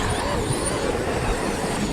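Traxxas XRT RC truck driving hard on a tricky outdoor surface, its motor a loud, continuous close whine and rumble with gritty broadband noise and no clear pauses.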